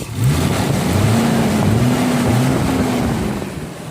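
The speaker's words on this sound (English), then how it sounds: "And all you hear is the roar of the fan, really" The engine bay of a 1989 Toyota Mark 2 GT twin turbo gives off a loud, steady whooshing fan roar close by, with a low engine hum underneath that shifts slightly in pitch.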